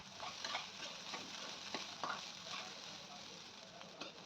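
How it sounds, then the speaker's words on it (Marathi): Sabudana (tapioca pearls) stirred in a pan with salt and chili, a soft continuous sizzle with occasional spoon scrapes, quiet and close, without speech. "मीठ मिरचीमध्ये दोन मिनिटे साबुदाणा चांगला परतून घ्यायचा आहे"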